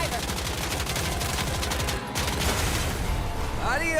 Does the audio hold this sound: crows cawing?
no